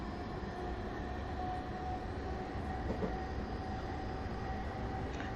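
Class 321 electric train running in a video game simulation, a steady rumbling drone with a faint high whine, continuous and even throughout with no voices.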